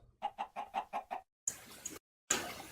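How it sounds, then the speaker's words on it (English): Minecraft Sky Factory wood chicken clucking in quick rhythmic bursts, about six clucks in a row, followed by two louder, harsher noisy bursts separated by short silences; no talking. "We got wood chicken."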